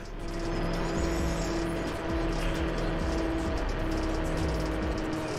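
A steady low engine drone from an 1100 hp Dodge Demon in Forza Horizon 4, held at a gentle throttle with barely any rev change, fairly quiet and continuous, with no talking.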